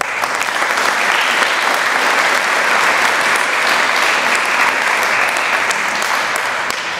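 Sustained, steady applause from a large audience at a high school Veterans Day ceremony, loud and even throughout with no break in the clapping.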